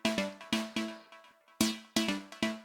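Rhythmic synth plucks in a repeating pattern, each note striking sharply and decaying quickly, with a short gap midway; clear and alone, no voices.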